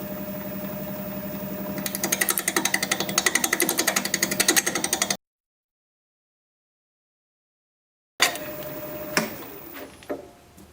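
Wood lathe spinning at about 700 RPM while a goblet shaft is turned, a steady close machine drone with rapid rhythmic chatter from the cut, then a stretch of silence before the motor and cutting noise resume.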